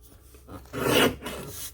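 A paper trimmer slices through lime green cardstock in one short, close rasping swipe that swells and fades, followed by a softer scrape.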